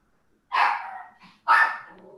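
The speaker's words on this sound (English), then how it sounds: "Can you hear my dog?" A dog at home gives two sharp, close barks about a second apart, each trailing off briefly, with quiet in between.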